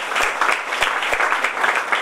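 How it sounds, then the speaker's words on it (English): People at a book launch for Goa's sporting legends applaud an honoured cricketer. The crowd gives brief, steady clapping with a few distinct sharp claps in it. "deserves a big applause"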